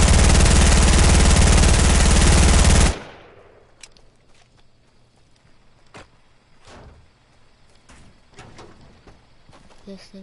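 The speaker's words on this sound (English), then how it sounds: "This thing is a gun." A machine gun in a video game fires one continuous, very loud burst for about three seconds before cutting off, leaving quieter scattered clicks and thumps afterward.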